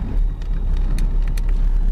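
A car drives along with a steady low road rumble and wind buffeting, a few brief sharp ticks and rattles cutting in over the engine noise, and no voices.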